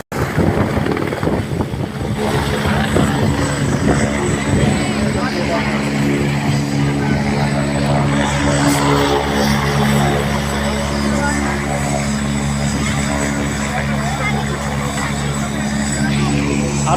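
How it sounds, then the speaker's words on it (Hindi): A helicopter ferrying pilgrims near Kedarnath in June 2024 drones with a steady, humming rotor and engine tone that holds throughout, with voices talking over it. "हेलीकॉप्टर से यात्री आ रहे हैं।"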